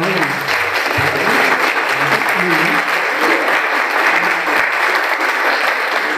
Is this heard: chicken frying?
no